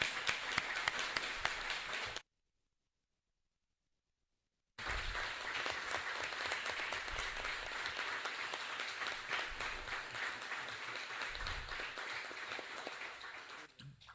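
Applause fills a municipal council session, brisk clapping from a group in a room, broken by a brief gap of silence, then resuming steadily and tapering off at the end.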